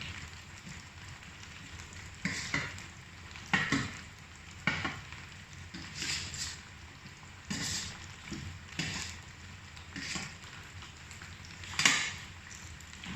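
Chicken nuggets frying in a pan, a steady close sizzle broken by repeated scraping and stirring bursts at irregular intervals.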